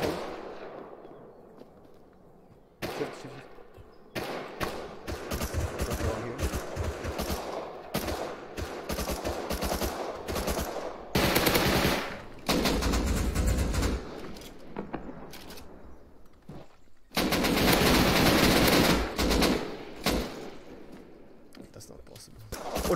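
AK assault rifle fire in the survival game Rust rattles out in several loud, sustained bursts with pauses between, mixed with excited voices talking over the shooting.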